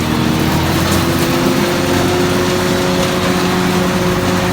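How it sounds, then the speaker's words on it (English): A PTO-driven grinder on a tractor grinds ear corn into cattle feed with a steady, loud mechanical drone and engine hum that holds unbroken throughout, with no talk. "I enjoy it because it lets me put the grinder into gear nice and gently. Then we just give it RPM."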